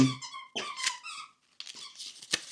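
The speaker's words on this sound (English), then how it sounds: "Hey, Recess, can you just not squeak so much?" An animal indoors gives a few high, nasal squeaks close by, in two short bursts separated by a brief silence.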